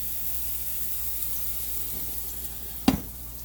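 Food sizzles steadily in olive oil in a pan, a continuous soft hiss and crackle close by, broken near the end by a single sharp clink of a utensil.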